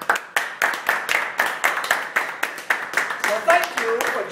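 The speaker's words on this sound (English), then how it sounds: "A slightly shorter clap, slightly shorter clap. Notice the noise is less." Sharp hand claps repeat in a steady rhythm, loud and close, aimed at switching a clap-activated light bulb on and off, with a brief faint tone toward the end.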